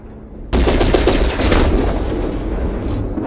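Weapons on an Atlas mech fire in the video game MechWarrior Online, a sudden loud burst of rapid, rattling gunfire that starts after a half-second lull and keeps going to the end.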